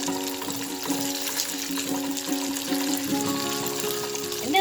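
Chicken macaroni fries in a pan with a steady, close sizzle and crackle, joined by faint tonal hum and clinks in the background and no talking.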